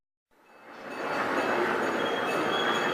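A small electric ride-on train pulling away with its cars around a shopping center at Christmas time, with a steady rising rumble and rolling hiss that swells then holds loud and continuous, plus a faint high whine.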